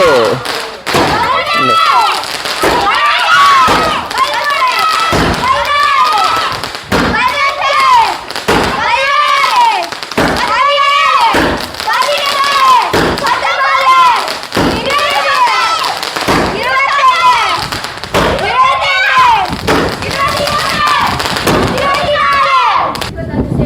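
Diwali firecrackers go off one after another in a loud, regular series, about a dozen sharp bursts spaced roughly two seconds apart, each with a crackling, sparkling tail.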